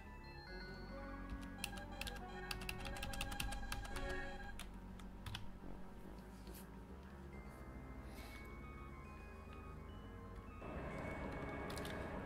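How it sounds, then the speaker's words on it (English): A computer keyboard is typed on while a space-flight game plays, with bursts of rapid, close clicking keystrokes over a faint steady hum of game sound. "That's what I'm typing."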